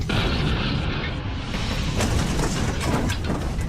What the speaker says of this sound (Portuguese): Explosões com dinamites.